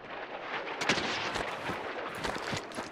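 Sniper shots ring out in the battle royale shooter Warzone, several sharp, distant-sounding cracks spaced over a quiet bed of game noise.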